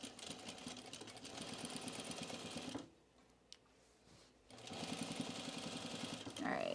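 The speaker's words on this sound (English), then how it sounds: "That was my bobbin winder, as far as noises go." A sewing machine's bobbin winder whirs with a steady, fairly loud mechanical drone. It stops for about two seconds mid-clip, leaving near-quiet, then starts up again and runs to the end.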